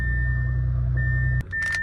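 A car engine idles steadily with a low rumble and a faint high whine, then briefly drops off before a short mechanical clatter.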